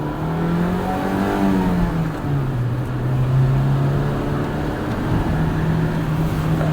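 1998 Acura Integra GSR sedan with its VTEC engine pulling on back roads, a loud, close, continuous engine drone whose pitch rises and settles as the car accelerates, with no one talking.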